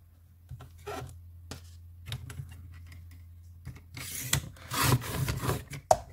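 Scissors trim a sheet of acetate for a homemade shaker polaroid, giving a few quiet, separate rasping snips and rubs that build into a denser scraping burst near the end, with no one talking.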